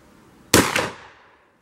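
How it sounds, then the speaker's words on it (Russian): A single sharp, loud Stoeger P350 shotgun shot cracks out and rings off briefly, followed by silence. "Такой выстрел интересный."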